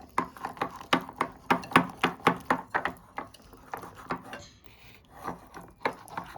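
Cake batter for a Christmas cake being mixed by hand, a quick rhythmic series of scraping and tapping strokes, close and moderately loud, with a short pause before the strokes resume.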